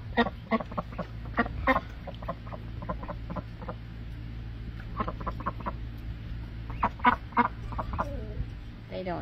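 Several chickens cluck in short, irregular bursts at moderate distance, with a low steady hum underneath and quieter stretches between flurries.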